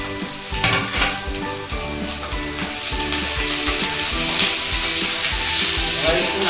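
Capsicum and chopped ginger hit hot oil in a pan over raised flame for chilli chicken, giving a loud continuous sizzle with spatula scrapes and light clinks of cookware, no voices.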